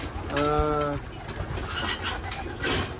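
Pigeons or doves cooing at Kampo Capistrano, with one clear nearby coo and other bird sounds amid outdoor noise and faint talk.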